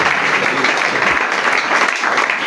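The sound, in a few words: congregation applauding in worship service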